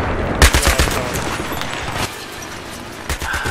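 Battlefield gunfire aimed at players beside a jeep: a quick burst of several loud, close shots near the start, a single crack midway, and another shot near the end over a rumbling background.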